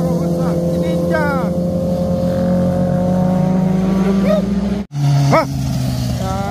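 A group of big motorbikes, Kawasaki Ninjas and Hondas, rolls past with a steady, loud engine drone and rising revs, broken by a brief dropout near the end, while people talk over it.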